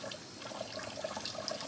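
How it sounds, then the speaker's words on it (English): Water runs from a kitchen tap in a steady faint trickle with small splashes, quiet and close, no talk. "I'm just going to take it just like that in that running water"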